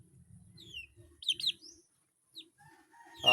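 Young pet chicks, recovering from illness while being given drops of Telmuco medicine, cheep in thin high peeps, some clustered in quick bursts, heard close over a low rumbling background with no talking.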